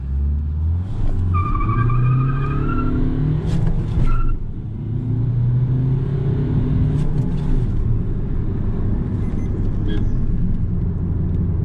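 A Maruti Ertiga diesel engine pulls and accelerates with a low, rumbling drone that rises and shifts through gears. A few brief chirps and squeaks are heard.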